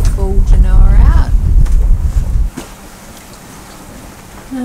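Wind buffets the microphone aboard a yacht sailing in the Whitsundays under a reefed main and full genoa, a loud rushing roar under a voice that then drops to a quieter steady hiss.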